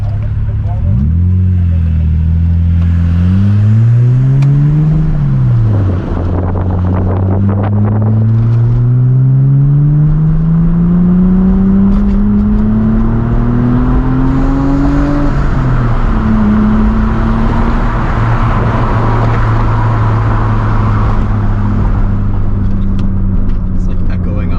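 A 1995 Ford Probe GT with a five-speed manual revving up through the gears, the engine note climbing, dropping at shifts and climbing again as it echoes off a bridge, loud and close from inside the car with voices talking over it.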